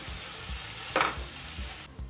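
Grated coconut and khoa being stirred in a pan over a medium flame, soft scraping strokes in a regular rhythm with a brief louder scrape midway and a light sizzle beneath.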